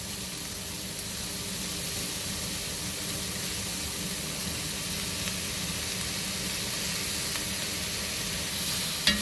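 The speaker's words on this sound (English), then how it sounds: "we're going to cook that, and now we're going to have this on a medium heat, and just cook and stir it for about 5 to 10 minutes or so" Onion, celery and minced garlic fry on medium heat for a keto broccoli cheddar soup, giving a steady, close sizzle with a soft hiss that continues evenly throughout, ending in a small clink.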